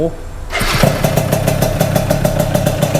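A Yamaha Mio scooter with a modified KR cylinder head starts up after a quiet moment and settles into a loud, close, rapidly pulsing idle with a sharp exhaust rattle; a voice is heard briefly under it.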